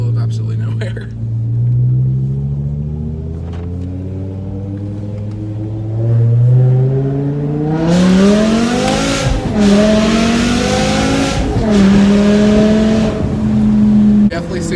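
A BMW M5 with an SMG gearbox drives and accelerates from inside the cabin: the engine drones up in pitch, with abrupt breaks at gear shifts, under people talking.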